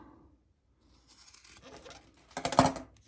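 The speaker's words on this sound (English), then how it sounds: "you can take a pair of scissors, right? And I always like to cut it at an angle." Scissors snipping through a woven rowing strap, cut at an angle: soft rasping and crunching fabric sounds building to one louder, sharp snip near the end, close by, with no talk.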